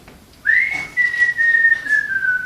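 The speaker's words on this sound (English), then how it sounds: "Will you stop that whistling, you magpie?" Someone whistles a single long, steady note that wavers slightly in pitch, clear and close, after a brief quiet start.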